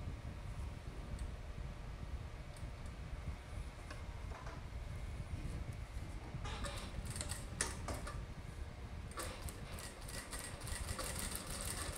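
A sewing machine topstitches along a skirt waistband with a continuous, rapid mechanical whir, intermittent clicking and a few short bursts of handling noise in the latter half.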